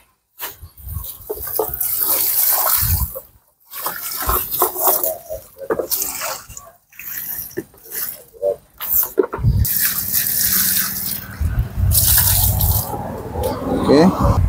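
Water pours and splashes onto potted mandarin citrus plants being watered by hand, a continuous rushing spatter that stops and restarts, with people talking over it.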